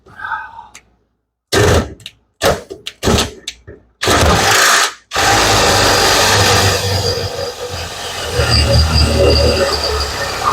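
Power drill cutting into a race car seat cushion, a few short bursts and starts, then one long sustained close whine with rough grinding underneath.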